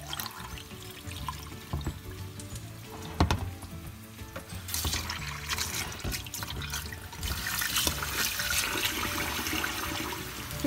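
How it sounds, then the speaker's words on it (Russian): Steady running water splashing and rushing over lentils being rinsed in a sink, continuous and close throughout, growing a bit louder partway through. "Промоем нашу чечевицу водой."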